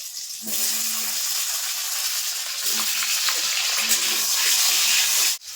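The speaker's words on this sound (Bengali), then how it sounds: "এখন যে আলু কেটে রেখেছিলাম লম্বা লম্বা করে, আলুগুলো ভেজে নেবো।" Long-cut new potatoes fry in hot oil for a Bengali fish curry, giving a steady, loud close-up sizzle that holds throughout and cuts off abruptly at the end.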